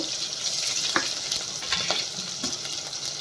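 Green chillies, cumin and mustard seeds fry in oil with a loud, steady sizzle, broken by small pops and stirring clicks.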